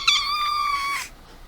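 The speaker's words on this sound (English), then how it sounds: "Which option is the sound of cats?" A single drawn-out cat meow, clear and fairly close, rising slightly then fading after about a second.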